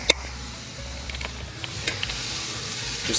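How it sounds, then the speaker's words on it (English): Ground beef for a taco bowl sizzles steadily as it is pressed flat against a hot pan, a continuous moderate hiss with a few light scraping ticks. "flatten it against the pan. That's gonna give that thing a nice little sear"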